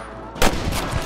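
A single sudden gunshot in the Western video game Red Dead Redemption, during a shootout against rustlers, bursts in loud and close after a quiet start and rings out briefly.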